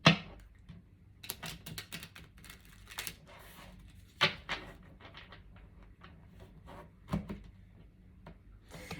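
Crisp riffling and soft slapping of cards being shuffled, a burst of quick flutters with scattered taps, close by and fairly quiet, with no talk.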